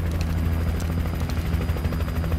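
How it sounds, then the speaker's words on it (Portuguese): Helicopter in the video game Alan Wake, a steady loud rotor throb with low thudding blade beats and engine whine running throughout, close and unbroken. "Eles estão me ajudando agora, eu tenho um helicóptero."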